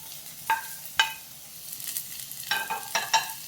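Chopped tomato goes into a pan of sizzling carrots, giving a faint, steady frying hiss broken by a few sharp clinks and scrapes as the mixture is stirred.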